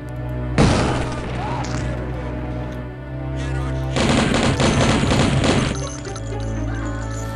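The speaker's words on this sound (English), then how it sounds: "I like to just fire off a napalm shot at them." Napalm cannon shots in the DOS shooter Blood crackle and roar in two long dense bursts, loud and close, over a steady hum of game ambience.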